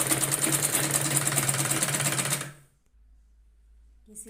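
A sewing machine stitching a blouse sleeve whirs with a fast, steady mechanical chatter for about two and a half seconds, then stops, leaving near silence.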